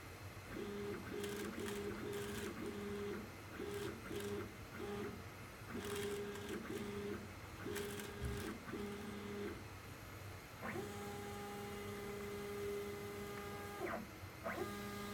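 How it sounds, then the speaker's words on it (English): Stepper motors drive a Zenbot 4x8 CNC router (model 4896) through a test, producing rhythmic bursts of whining pitched tones. These give way to longer sustained motor tones, with sharp clicks scattered throughout and no voices. "This is going to be a motor test for my Zenbot 4 foot by 8 foot CNC"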